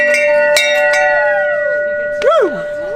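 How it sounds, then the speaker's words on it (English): A bell is struck a few times at the finish of a 100-mile, 24-hour running race, bright ringing tones decaying over a brief whoop-like vocal sweep near the end. "You gotta go ring that bell."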